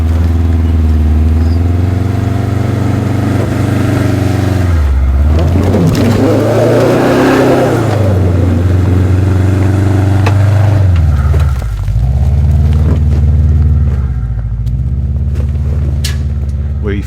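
A Subaru Forester XT engine drones and revs hard as it climbs a steep, rutted rocky hill, rising in pitch mid-climb and then settling, loud and close throughout.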